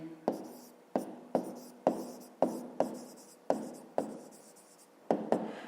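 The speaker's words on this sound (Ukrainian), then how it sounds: "Пишемо відповідь." Pen or pencil writing an answer to a fifth-grade maths exercise on paper, a series of short scratchy strokes in bursts, close and fairly quiet, with no talking.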